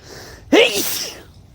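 A single sharp sneeze bursts out close to the mic, with a quick breathy intake just before it and a fading exhale after.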